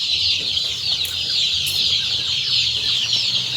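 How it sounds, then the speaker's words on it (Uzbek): A crowd of young Andijan black chicks keeps up a dense, continuous high-pitched peeping close by, with a few brief louder chirps and some soft shuffling underneath. "Andijon qora jo'jalari 25 ming so'm."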